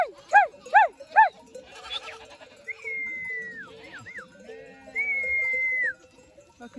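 Sheep and goats in a village flock being sheared bleat three times in quick, loud succession, followed by softer tonal calls and a brief voice in the background.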